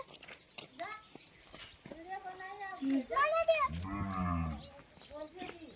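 On a farm beside a millet field, a cow lets out one deep, close moo in the middle of people chatting, with bright bird chirps scattered throughout.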